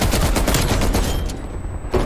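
Sustained rapid M60 machine gun fire in Call of Duty: Cold War, a dense loud burst of shots running continuously for about two seconds with a brief pause near the end.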